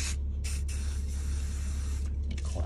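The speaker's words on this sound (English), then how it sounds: "So let's try a little bit of WD-40." Short bursts of WD-40 aerosol spray hiss onto a car seat belt buckle, two longer sprays then several quick puffs, close up over a steady low engine-like hum.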